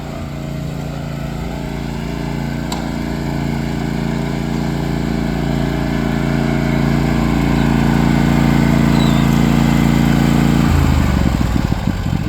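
A lawn mower engine runs steadily and loudly up close for the whole stretch, its constant drone holding a droning harmonic tone, with a rougher shift in the last couple of seconds.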